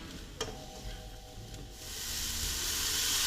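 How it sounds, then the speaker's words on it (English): Mushrooms and onions fry in a pan with a broad, rising sizzle that grows louder and steadier toward the end, after a couple of light taps near the start. "after a few minutes where it's violently frying, as you can see, the mushrooms and the onions have gotten a little bit of color"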